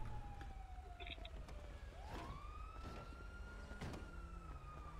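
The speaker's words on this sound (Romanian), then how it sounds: "E pe drum ambulanță." Ambulance siren in GTA 5, a wailing tone sweeping down then up, moderately loud over faint engine noise and other game sounds.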